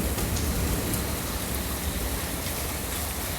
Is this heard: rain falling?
yes